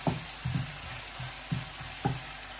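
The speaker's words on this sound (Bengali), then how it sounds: "পেঁয়াজটা একটু ভাজা হইল" Chopped onions and tomato fry in a pan with fried onion nearby, giving a steady close sizzle broken by a handful of short clinks and scrapes from stirring.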